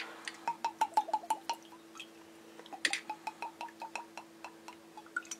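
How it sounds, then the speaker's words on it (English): Liquor, topped off with Goldschlager, trickles into a shot glass as a run of small, close dripping plinks in an uneven rhythm. The drops pause briefly midway and then resume, quiet and near. "What I'm going to do is pour this into a shot glass."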